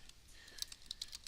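Someone types on a computer keyboard in a short burst of soft, irregular clicks, quiet and close, with no talking.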